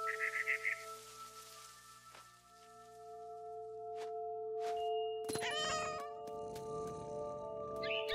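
A cat meows in the game What Remains of Edith Finch, a short run of close, clear meows at the start, followed by soft thumps and outdoor ambience with birdlike chirps later on.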